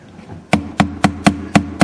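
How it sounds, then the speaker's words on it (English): A rubber hammer taps on the body of a Taylor acoustic bass guitar, six sharp, close knocks at an even pace, each ringing briefly with a low woody resonance, with no talking. "I could just tap it lightly here, and maybe with this rubber hammer,"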